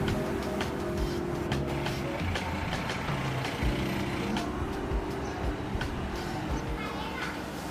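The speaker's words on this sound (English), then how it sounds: "the roads of Tripureshwar ring with the occasional passing vehicle" Street sound on a nearly empty Tripureshwar road in Kathmandu during lockdown, a vehicle engine rumbling past with a steady drone and faint tonal hums, voices audible in the background.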